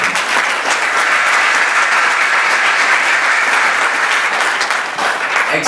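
Wedding guests applaud loudly and steadily in a sustained burst of clapping that fills the room, with no voices standing out.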